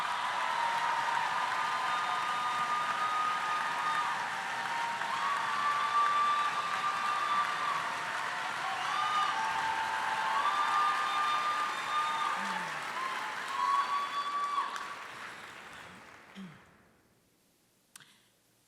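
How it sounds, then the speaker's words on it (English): Sustained audience applause for a storyteller, a dense steady wash of clapping with faint whoops that rolls on for many seconds before tapering off and dying out near the end. "Keep applauding them till they come up to the mic."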